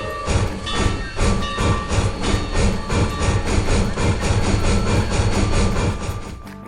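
Steam train sound effect: rhythmic, loud chuffing and clattering pulses repeat steadily throughout, with a faint whistle-like tone running underneath.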